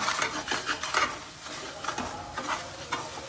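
Dry spices, salt, chili masala and turmeric are stirred into a vegetable masala frying in a pan. The spoon scrapes in a steady rhythm of close strokes over a soft, continuous sizzle.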